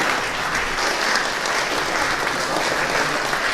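Warm, steady applause fills a room at a municipal contract-signing ceremony in Brežice, a continuous even roar of many clapping hands from a seated crowd.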